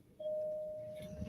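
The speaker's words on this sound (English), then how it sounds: "that was my doorbell" A single electronic doorbell tone rings out steadily and clearly, holding for about a second in a quiet room before fading under a faint rustle.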